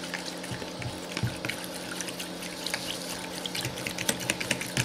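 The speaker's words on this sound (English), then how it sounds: "I'm whisking more vigorously." Hand sanitizer gel is whisked vigorously in a bowl, a continuous wet, sloshing churn with small squelching clicks, close and steady, with no talking.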